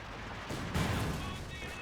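An artillery barrage strikes in a Company of Heroes 2 match, a heavy blast bursting through about halfway amid dense battle noise, with a commentator talking over the top.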